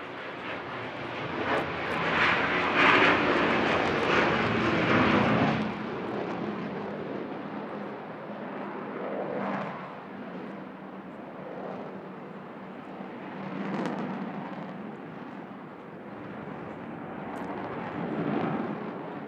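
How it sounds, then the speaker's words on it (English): An Avro Vulcan bomber makes a final medium-speed pass at a seaside air festival after closing its bomb bay doors, a loud jet roar that swells early, then fades into a lingering distant rumble with later smaller surges. "And there she is, your Vulcan."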